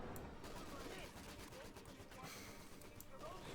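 Distant battlefield gunfire from the World War II strategy game Company of Heroes 2, with Panther tank and British 6-pounder anti-tank gun fighting, a faint rattling clatter of shots under a busy mix.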